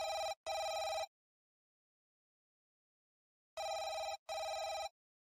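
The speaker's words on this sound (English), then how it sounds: "It keeps ringing" A telephone rings in two double trills, each a pair of bright electronic rings, with silence of several seconds between them, clear and alone.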